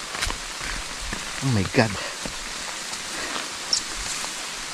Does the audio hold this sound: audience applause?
no